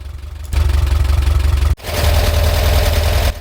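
A Volkswagen Type 4 engine in a T2 idles steadily at about 875 RPM with a low, even rumble, briefly cutting out for a moment before settling back into the same relaxed hum.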